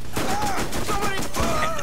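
Rapid bursts of Double Anarchy SMG fire in Borderlands, loud and close, crackling in quick overlapping volleys over steady game noise, with voices talking alongside.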